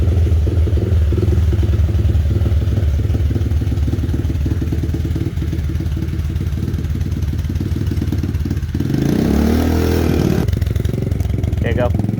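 A 2021 X-Pro Storm 125cc four-stroke dirt bike engine runs steadily at a close, loud idle with a mechanical clatter, briefly revving up near the end.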